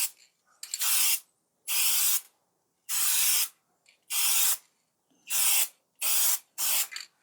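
Aerosol spray paint applied as a light coat to a cleaned engine block, heard as seven close, loud hissing bursts of about half a second each with brief silences between.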